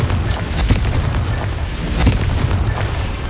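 Confringo blasting spells burst in Hogwarts Legacy, a couple of deep booming explosions over a dense, rumbling combat din.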